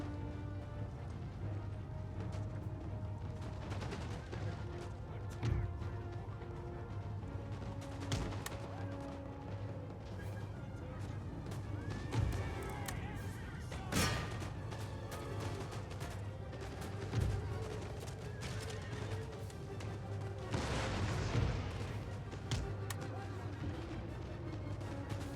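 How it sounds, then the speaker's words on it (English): Cannon artillery volleys in the strategy game Empire: Total War, booming at irregular intervals over a dense, continuous battlefield din, with a few louder blasts standing out. "Back on our cannons."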